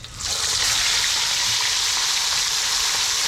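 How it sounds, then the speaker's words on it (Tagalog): Sweet lips fish frying in hot oil gives a steady, loud, close sizzle that rises quickly at the start and holds evenly, with no talking. "Ay mga ka-adventure, magpiprito na tayo."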